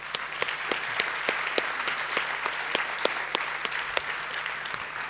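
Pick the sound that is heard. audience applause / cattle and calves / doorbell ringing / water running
audience applause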